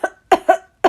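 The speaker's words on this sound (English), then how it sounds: "4 coughs." Four sharp coughs close up: a single cough, a brief gap, then a quick pair, and one more cough to finish.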